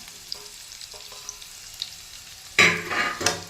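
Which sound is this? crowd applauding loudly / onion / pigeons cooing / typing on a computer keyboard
onion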